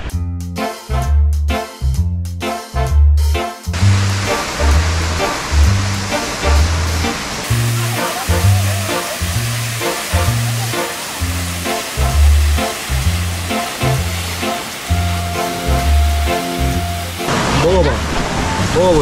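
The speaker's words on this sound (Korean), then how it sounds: "간만에 정방폭포 내려갑니다." Jeongbang Waterfall on Jeju Island gives off a loud, continuous roar of falling water, layered under rhythmic footsteps and movement noise as someone walks down toward it.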